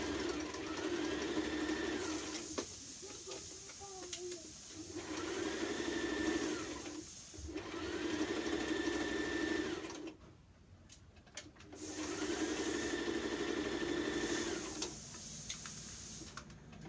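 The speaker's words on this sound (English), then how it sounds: "we're going to sew this in place the same way like how we sew the next one" Domestic sewing machine stitching a dress piece in place, running in several steady bursts of a few seconds each with short pauses between, close and fairly loud, no talking.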